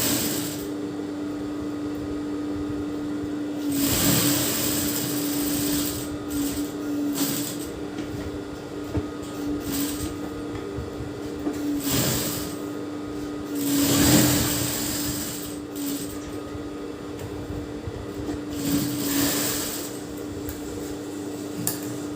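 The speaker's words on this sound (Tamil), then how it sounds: "இதுக்கு மேலே நம்ம இதை வச்சு தைக்க போகிறோம்" Sewing machine stitching a washable fabric face mask, running in steady mechanical bursts with brief louder stretches of stitching over a constant motor hum, close by and with no talk.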